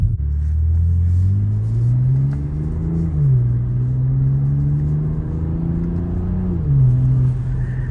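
A BMW M440i accelerates through the gears from inside the cabin. A deep engine drone rises steadily, dips briefly at each shift around three and six seconds, then climbs again, with no talking.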